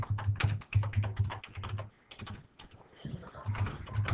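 Keys clatter in quick bursts on a computer keyboard, close and steady, with a few short pauses between runs of typing.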